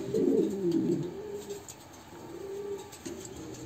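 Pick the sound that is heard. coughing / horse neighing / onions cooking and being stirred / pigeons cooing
pigeons cooing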